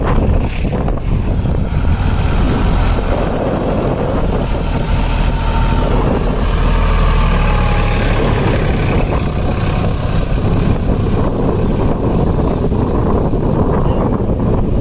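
Strong wind roaring at the seashore where fishing boats sit beached, a loud, continuous buffeting rush battering the microphone with low rumble throughout.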